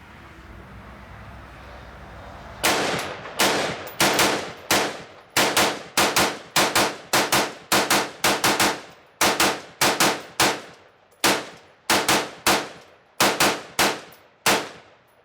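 An AR-15 rifle loaded from an IMI magazine fires about twenty sharp, loud shots in a steady semi-automatic rhythm, each crack followed by a short ringing decay, after a few seconds of quiet outdoor background.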